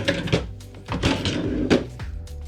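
A cabin drawer on the Carnival Freedom cruise ship, loose and falling apart, bumps and thunks open and shut with several close wooden knocks, muffled by room noise.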